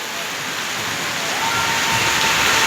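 A downpour of heavy rain abroad keeps up a thick, continuous wash of hissing water, growing a little stronger over a few seconds, unaccompanied by talk.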